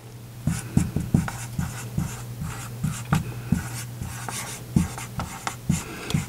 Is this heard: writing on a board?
yes